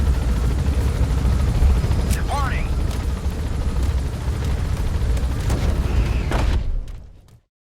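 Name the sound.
helicopter in video game Metal Gear Solid V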